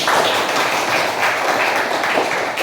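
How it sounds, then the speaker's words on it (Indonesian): A class claps during a lesson in a classroom, producing a loud, dense burst of applause that holds steady for a couple of seconds without talk. "Beri tepuk tangan untuk saya."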